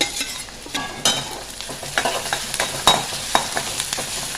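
Ginger, garlic and green chillies frying in a pan, a close, crackling sizzle punctuated by repeated sharp scrapes and clinks of stirring, with no voices.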